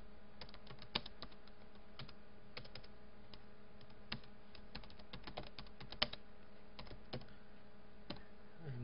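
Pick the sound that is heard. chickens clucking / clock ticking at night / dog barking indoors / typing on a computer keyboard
typing on a computer keyboard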